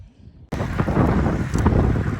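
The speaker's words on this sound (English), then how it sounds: "It's actually very windy, not ideal" Strong wind buffets the microphone during a bike ride, a sudden loud, rumbling roar that starts abruptly and keeps gusting unevenly, with no voices.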